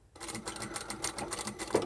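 Sewing machine running in a quick burst of rapid, even needle strokes while backstitching elastic into the edge of a fabric sleep mask, close and moderately quiet.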